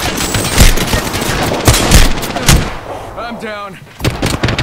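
Gunfire in Apex Legends on PC: a string of loud, close shots in an irregular burst, then a pause with a short spoken line before more shots crack out again.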